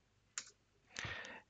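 Computer keyboard during an Arch Linux install, one crisp key click followed by a slightly longer, heavier keypress rattle, close and quiet with no voice.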